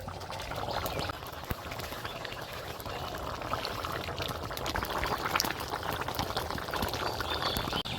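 Fish curry with bottle gourd and potato bubbling in a pot, a steady close simmering and boiling sound with soft liquid churning that holds evenly throughout.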